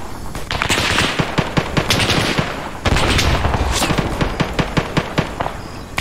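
Rapid automatic gunfire in the military shooter Arma 3, loud and close, with dense bursts and sharp repeated shots running nearly continuously with no talk.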